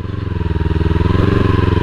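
A KTM Duke 250 motorcycle labours through slippery wet mud, its engine chugging in a fast, steady pulsing rhythm up close and growing louder as it pushes on.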